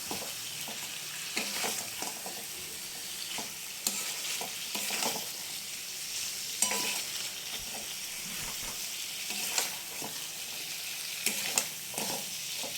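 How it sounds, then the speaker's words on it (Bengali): Pieces of fish for a Bengali fish curry are stirred in a frying pan. A constant oily sizzle sits under repeated utensil scrapes and light clatters at an uneven rhythm, up close. "মাছগুলোকে দিয়ে আমি ভালো করে এটাকে নাড়াচাড়া করব।"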